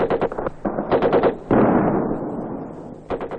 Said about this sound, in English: Nothing like real bullets flying overhead to teach a man to keep his head down.